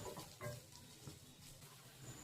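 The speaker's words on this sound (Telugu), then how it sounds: "Finally add water." Water pours into a pan of cooking upma with potato, carrot, turmeric and salt, a faint, steady trickling splash lasting a couple of seconds.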